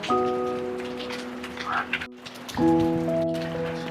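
Rain falling in a village, a steady soft hiss of drops on surfaces, with sustained tonal hums over it and a short quiet gap midway; faint voices may be present.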